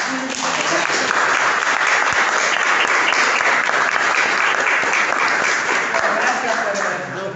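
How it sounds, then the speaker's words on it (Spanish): A crowd applauds steadily and loudly for several seconds, a dense wash of clapping with no pause. "podemos aplaudir entonces."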